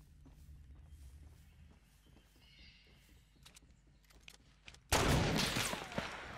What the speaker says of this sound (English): What was that fucking gunshot?